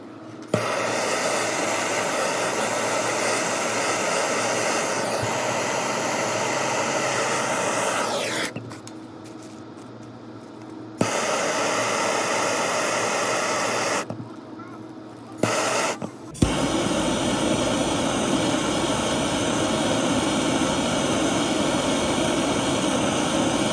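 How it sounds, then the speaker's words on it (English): A torch flame heats a copper baseboard pipe near a wall, a steady loud roaring hiss that cuts out twice briefly before resuming, with no talk over it. "you can kind of keep the flame moving and then just get the copper hot enough without overheating the"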